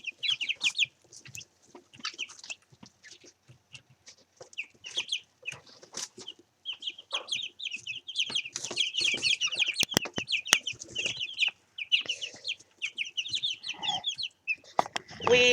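Chickens cluck and squawk close by during a weekly weigh-in, a busy, irregular chatter of overlapping calls interspersed with handling thumps and rustling throughout.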